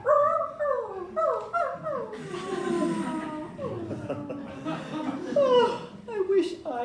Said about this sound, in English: Oh, is this your little dog?